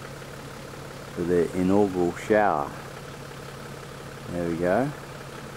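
A small engine idles steadily at a riverside camp, powering a camp shower, with a constant low hum that continues under a few short bursts of nearby talk.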